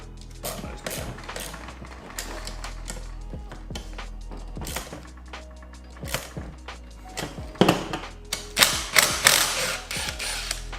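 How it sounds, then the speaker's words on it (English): Bolts and nuts are undone on the bracket holding a REDARC BCDC dual battery charger in a 2021 LandCruiser 200 Series, with repeated close ratcheting clicks and metallic taps that get louder and busier toward the end. "so now I'm just undoing one of the bolts and nuts that hold the BCDC to the bracket"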